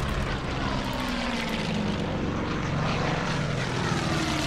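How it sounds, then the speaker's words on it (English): Propeller warplane droning steadily overhead in the Burma Road Irrawaddy River battle of the war strategy game Order of Battle, a continuous engine hum held at even loudness throughout. "Oh, there's an aircraft over there."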